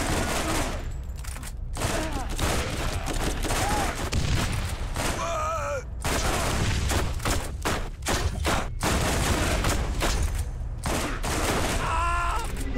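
A Pounder gun in Borderlands, a game session, pounds out dense, sustained volleys of heavy shots, loud and close, with brief pauses and strange warbling effects mixed into the chaotic combat noise.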